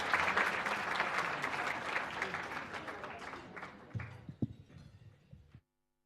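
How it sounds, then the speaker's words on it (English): Loud, dense audience applause at a mathematics and science awards ceremony welcomes a director onto the stage, gradually thinning to scattered claps and a few thumps before cutting off into silence. "Please, a round of applause to him as we welcome him on stage."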